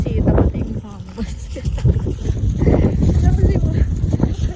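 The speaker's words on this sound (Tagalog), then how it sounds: "Grabe yung hangin oh." Strong wind buffets the microphone outdoors on a street, a loud low rumbling roar that surges and gusts continuously, with a voice speaking over it.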